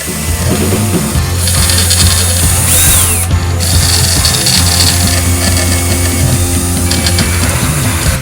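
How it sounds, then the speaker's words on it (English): A power drill fitted with a larger bit bores screw holes in a guitar pedalboard to mount a DC power supply underneath, a loud, steady, close whine running without a break. "I just need to make sure my bit is big enough for the screw to slide through. Step up to the next size."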